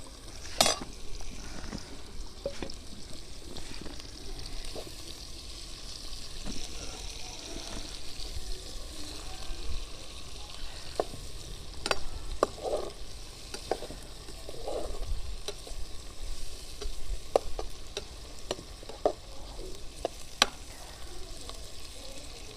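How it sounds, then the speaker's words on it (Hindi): Onions fry in a pan until brown for a fish curry base, a moderate sizzle broken by frequent scraping stirs and occasional clicks of the spoon against the pan. "प्याज को अच्छे से ब्राउन होने तक फ्राई कर लेंगे अच्छे से।"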